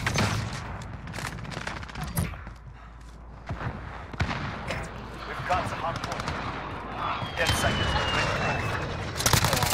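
Automatic gunfire from an UZI and other weapons in the video game Modern Warfare rattles in rapid bursts, loud and dense, with excited voices of players talking over it.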